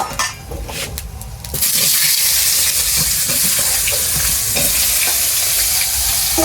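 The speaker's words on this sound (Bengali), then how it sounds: "এই মাছ ভাজার তেলের মধ্যেই আমি বাঁধাকপি আলুটাকে বেঁধে নেব" Cabbage and potato frying in the oil left over from frying katla fish: after a quieter first second and a half, a loud, steady sizzle fills the rest of the clip with no talking.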